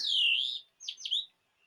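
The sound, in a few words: blackbird and other birds singing in a grove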